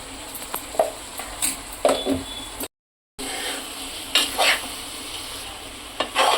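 Brinjal curry stirred slowly in a pan, with a close, constant frying hiss and intermittent spatula scrapes and knocks against the pan, interrupted by a short gap of silence.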